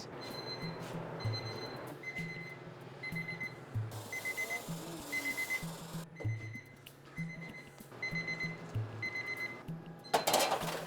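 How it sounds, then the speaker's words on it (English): Several baking timers going off in a bakery kitchen: repeated high electronic beeps in short bursts that overlap in shifting patterns, with steady background noise, fairly faint and without talk. "which is why I have an army of timers"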